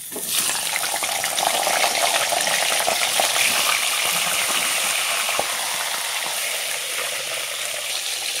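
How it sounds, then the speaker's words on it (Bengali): A fish head fries in hot oil in a wok with a loud, close, crackling sizzle that rises quickly and holds steady, with a single sharp tap midway and no speech. "তেলটা গরম হয়ে গেছে, মাছের মাথাটা ভেজে নিব।"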